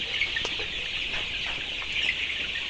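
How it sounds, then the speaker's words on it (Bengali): Young Sonali chickens, about 25 days old, squabble and peck at one another in a poultry shed, giving off a steady chorus of close, busy clucks and chirps with a few sharper peck-like clicks. "এখানে একটা মুরগি এখানে মারামারি করতেছে"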